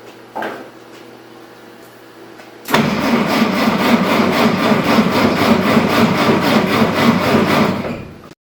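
A Willys Overland pickup cranks briefly, then fires and runs for the first time in 46 years, settling into a loud, rapid, steady idle before cutting off abruptly.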